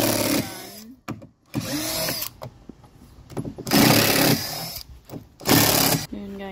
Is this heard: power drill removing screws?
yes